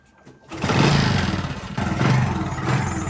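A Honda XRM 125 motorcycle engine, fitted with a converted 4-pin CDI, cranks briefly and then catches, settling into a steady close-up running rumble with slight surges.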